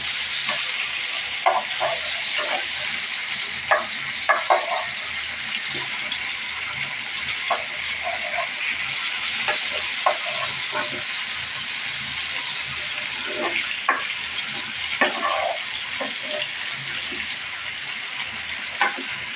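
Fish frying in a pan, a steady hiss of hot oil throughout, with scattered light clicks and taps as pieces are turned over.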